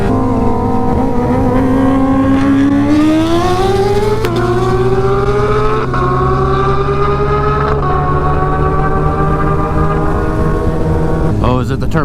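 A 300-horsepower Kawasaki Ninja H2 and a turbo Hayabusa race on the street. A loud, close engine screams steadily higher and snaps through several quick gear shifts without letup.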